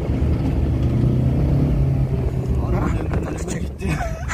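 Fiat Egea 1.3 Multijet diesel car accelerating, a steady engine drone with rising harmonics and road noise heard from inside the cabin, with people talking over it.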